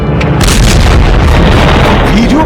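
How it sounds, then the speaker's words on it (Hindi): A loud explosion strikes a bulldozer in Gaza fighting, a massive booming blast that saturates the sound and rumbles on for a couple of seconds. "वीडियो में जोरदार धमाके के साथ ही बुलडोजर एक जगह रुक जाता है"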